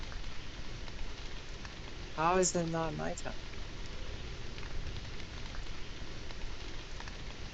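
Steady rain falls in a video game, a soft, continuous hiss throughout, with a person speaking briefly over it partway through.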